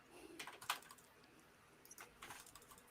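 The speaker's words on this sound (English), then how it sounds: "Okay, who's typing?" Quiet clicking of computer keyboard keys in two short bursts of typing, faint and alone with no talk.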